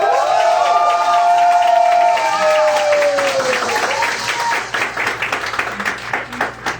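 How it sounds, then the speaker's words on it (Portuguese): A seated audience at a panel discussion breaks into sustained, dense applause, with some cheering and voices, loud and full at first before thinning into scattered claps. "Por favor, palmas para a Viviane Mosé."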